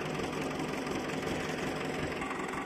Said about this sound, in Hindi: ये फार्म ट्रैक एस्कॉर्ट का ट्रैक्टर है, फार्म ट्रैक कंपनी का ही मान लो, चलो एस्कॉर्ट का ट्रैक्टर है ये, 55 HP का ट्रैक्टर है।